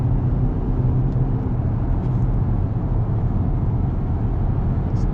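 A 2023 Hyundai Tucson N-Line with a 2.5-liter engine driving, heard from inside as a steady low engine and road rumble that holds even and unbroken from start to end.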